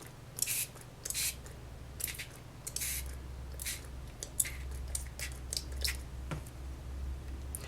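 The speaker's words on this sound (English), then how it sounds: "Now we're going to spray." Color spray misted onto embossed watercolor paper in an emboss resist craft, heard as a series of short, quiet, close hissing bursts at an irregular rhythm with no talking.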